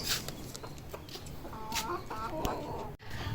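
Chickens cluck and chatter nearby in short bursts, with a few sharp knocks and rustles mixed in and faint background noise.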